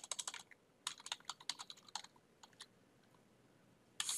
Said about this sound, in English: you're going to type in exported